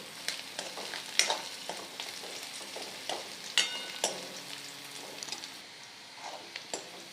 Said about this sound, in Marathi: तर कांदा लालसर आपला तळलेला आहे